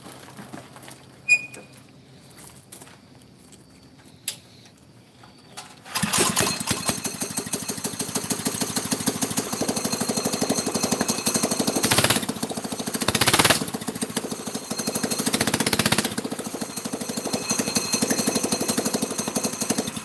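A mini bike's small engine, rated around 8 horsepower and fitted with a bigger carburetor jet and exhaust, starts after about six seconds of near quiet. It then runs loud and steady with a rapid putter, rising in a couple of revving bursts.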